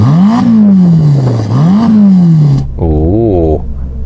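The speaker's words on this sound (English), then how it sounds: "let's have a listen to that Roma" A Ferrari Roma engine revs loud and close in two rising blips that sag back down, then a voice speaks over a quieter idle.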